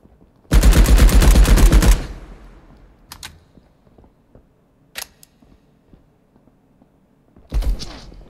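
An EM2 rifle fires a rapid, loud automatic burst in Marauders lasting over a second, followed by a few isolated sharp shots and clicks against near silence, then another short burst at the end.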